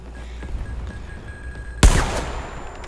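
A grenade blast in the shooter game Zero Caliber: after a quiet stretch with faint background hum, one sudden loud explosion bursts out and trails off in a rumbling decay.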